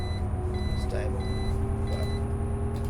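A turn indicator on a Karosa C954 bus in OMSI 2 beeps in a steady repeating pattern, clear and close over the constant low rumble of the idling diesel engine.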